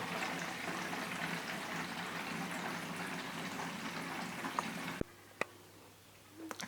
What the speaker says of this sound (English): So I'm going to fill up two 10-litre bottles with RO.